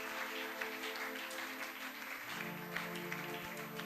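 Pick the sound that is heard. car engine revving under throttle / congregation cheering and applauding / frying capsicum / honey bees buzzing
congregation cheering and applauding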